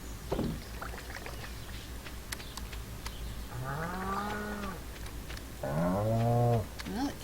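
Cows in the farming game Stardew Valley give two drawn-out moos, one after the other, clear and fairly near over a quiet outdoor ambience with light water-like background noise and no talking.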